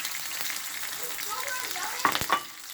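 Ackee and saltfish ingredients frying in a pan over lowered heat, a steady close sizzle and crackle with a couple of sharper pops and stirring clatters near the end.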